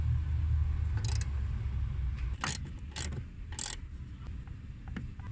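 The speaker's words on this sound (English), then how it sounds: "Finally, torque up the bolts using a crisscross pattern." A ratchet wrench torques bolts on a car, giving several short, clicking ratchet bursts close by over a low background rumble, with no talking.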